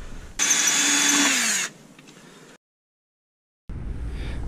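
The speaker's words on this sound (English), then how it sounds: "I got 1/4 drill bit." Power drill with a 1/4 inch bit boring into a steel van chassis, a loud high whine for about a second that drops in pitch as it bites, then a lower whir, silence, and a final noisy burst.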